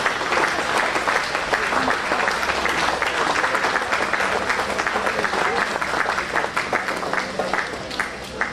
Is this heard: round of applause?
yes